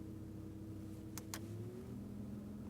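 A 2016 Porsche Cayenne GTS V6 turbo engine hums steadily at idle with a slight rise in pitch like a light rev, accompanied by a couple of brief clicks.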